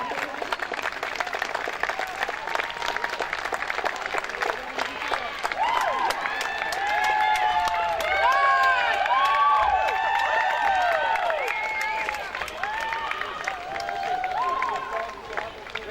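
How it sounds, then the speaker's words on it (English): A crowd applauds and cheers after the opening game between Great Britain and Germany. Steady clapping mixes with shrill whistles and rising shouts, loud and continuous throughout. "Big applause for both players."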